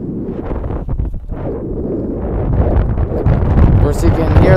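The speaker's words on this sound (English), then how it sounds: "Of course, you can hear the wind" Steady wind buffeting the microphone at an outdoor baseball game, a low rumbling roar that grows slightly louder toward the end, with a voice faintly in the background.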